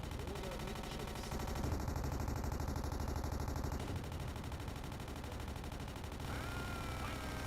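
Sustained automatic gunfire from a U-boat's deck gun in a World War II submarine game set off Halifax in September 1944, a dense rattling burst running almost the whole time with a brief change partway through.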